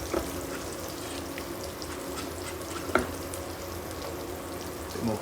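Potatoes for patatas bravas fry in a pan with added cumin and paprika, a steady close sizzle with a few faint utensil clicks over the continuous hiss.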